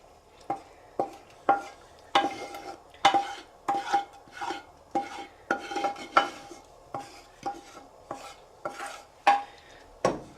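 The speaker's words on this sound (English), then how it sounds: "And you just give it a mix." Utensil scraping and clinking against an old frying pan while mixing pasta, chicken and vegetables, in a steady rhythm of short, sharp strokes, with a faint sizzle underneath.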